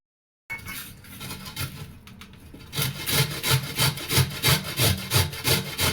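Beetroot rubbed against a hand grater, a steady rasping scrape that settles into a regular back-and-forth rhythm, loud and close with no talking.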